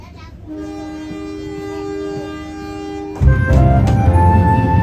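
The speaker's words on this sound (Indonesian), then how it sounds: "kereta api Sri Tanjung telah tiba di stasiun Caruban" Sri Tanjung passenger train arriving at Caruban station, heard from on board: a steady low rumble with sustained horn-like tones, then a louder, denser burst of clanking and rumbling in the last seconds.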